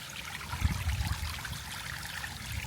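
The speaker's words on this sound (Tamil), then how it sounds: "பார்த்தீங்களா, தண்ணி போயிட்டுருக்கு." Water running over rocks in a stream in Pethotty village, Kerala, a steady soft trickling and gurgling wash that stays fairly quiet and constant throughout, with no voices.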